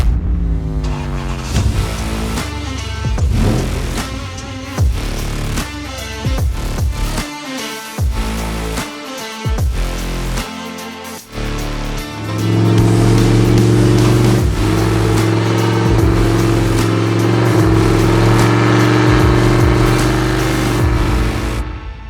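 A Vigilante Jeep Scrambler CJ-8 with a 392 HEMI V8 revs loud and close in repeated sharp blips. It then settles into a sustained, throaty high-rev roar, with no voices.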